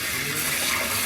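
Fresh green peas are rinsed under a running tap in a home kitchen. A steady, bright hiss and splash of flowing water continues unbroken throughout, close and fairly loud, with no talking.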